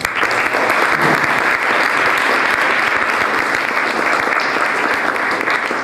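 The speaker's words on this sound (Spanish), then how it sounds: "un aplauso para el doctor" Warm audience applause for a doctor at a book presentation, a continuous, full round of clapping from a seated crowd, steady and fairly loud throughout with no break.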